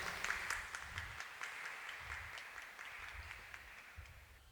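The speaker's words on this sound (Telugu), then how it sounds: "గట్టి చప్పట్లు కొట్టండి." A congregation applauds at a Marian festival Mass at the Nirmalagiri shrine in Eluru, producing soft, somewhat distant clapping in loose rhythmic waves over low room rumble.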